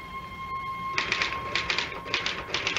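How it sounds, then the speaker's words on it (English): Typewriter keys clatter in quick bursts of strikes with short pauses between, close and fairly loud over a steady electrical hum, in an old radio mystery drama. "I typed through the night."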